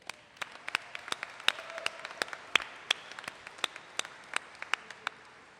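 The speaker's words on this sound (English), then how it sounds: "I want to especially give another round of applause to the class of 2022." Scattered, sparse applause at a university convocation for the class of 2022, individual claps ringing out irregularly from a smallish audience in a hall, thin and moderately distant.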